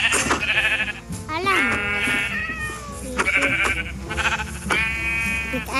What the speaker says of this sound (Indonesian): Ada domba lagi.